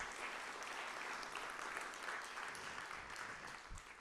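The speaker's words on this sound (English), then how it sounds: "That deserves a round of applause." Sustained audience applause fills the room, dense and steady clapping from a crowd at an innovation awards day keynote, with no voices over it.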